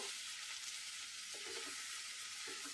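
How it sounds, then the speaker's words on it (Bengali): Young jackfruit being stir-fried with ginger in a pan gives a soft, even sizzling hiss, faint and continuous, with light stirring movements and no voices. "এটা আমি মিনিট 5 ধরে একটু নেড়ে নেব"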